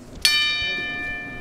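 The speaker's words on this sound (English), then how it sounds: "And the bell goes." A single strike of a boxing ring bell opens a pro bout, leaving one bright metallic clang that rings out and decays slowly over about a second.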